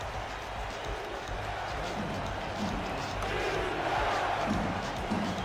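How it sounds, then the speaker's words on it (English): Crowd in a football video game stadium in Baltimore, a continuous distant roar that swells slightly toward the end, with muffled voices underneath. "Crowd is giving it to the Gladiators."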